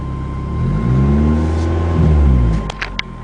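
A turbocharged project car with a 420A engine and a racing clutch pulls away up close. The engine revs steadily rise and fall, then it drops to idle, followed by a few quick mechanical clicks at the end.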